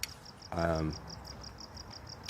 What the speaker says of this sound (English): I'm really enjoying the sound of the crickets tonight.